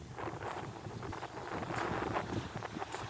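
Steady wind buffets the microphone on a seashore, a continuous blustery rush with faint crunching steps underneath and no voices.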